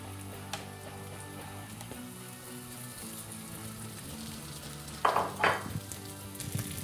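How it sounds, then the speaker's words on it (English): Parsnips sizzling in a warm frying pan: a quiet, steady hiss of frying, joined midway by a couple of brief louder bursts of sizzle and clatter as the pieces are moved, with no talking. "And again, you're going to hear that sizzle."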